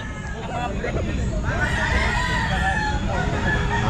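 A bull stag gamecock, a Melson Black cross about 11 months old, crows at a busy pet market, the call rising out of a dense babble of voices and crowd noise.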